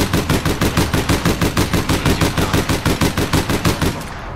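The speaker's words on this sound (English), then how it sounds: "I'm getting shot at from behind by who?" Rapid automatic gunfire in APB Reloaded, a loud, even burst of many evenly spaced shots lasting about four seconds before cutting off abruptly.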